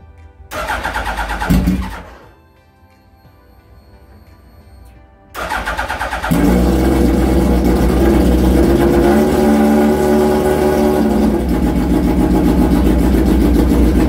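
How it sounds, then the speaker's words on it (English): A Suzuki Hayabusa motorcycle, fitted with a custom subframe and running without silencers, cranks over, then fires and settles into a loud, raw, steady idle up close with no talk. "let's try to start the bike without silencers"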